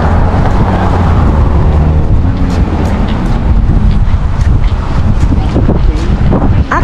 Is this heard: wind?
yes